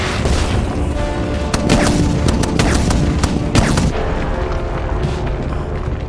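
AC-130 gunship fire in a video game: heavy 105 mm cannon booms and rapid Gatling bursts thunder loudly in dense volleys, with rumbling blasts layered throughout and no talk.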